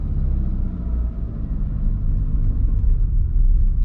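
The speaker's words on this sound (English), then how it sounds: "Rev your car a little bit, and then slowly release the clutch." A manual car's engine revs steadily as the clutch is slowly released, giving a constant loud, low rumble throughout with slight swells in level and no talking.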